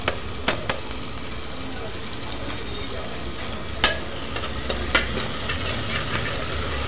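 Finely chopped onion with ginger-garlic paste sautés in a pan, with a dense, steady sizzle punctuated by occasional sharp clinks and scrapes of a spoon against the metal.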